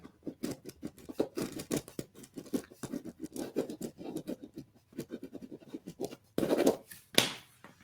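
Pen or pencil scratching on paper, with steady short strokes and scribbles in an irregular patter, close and quiet, ending with a couple of firmer rubbing sweeps.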